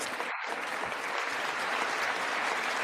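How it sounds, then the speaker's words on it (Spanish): Members of the US Congress applauding a Trump speech, a steady sustained wash of clapping from a large chamber crowd, evenly loud throughout with no voices on top. "La mitad de los republicanos aplaudiendo, de los demócratas algunos."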